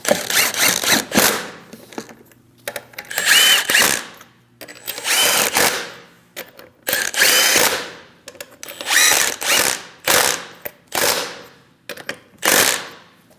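Loud, close bursts from a power impact tool snugging lug nuts onto a 2011-2018 Ram 1500 rear wheel, a series of rattling hammering runs of one to two seconds separated by brief pauses.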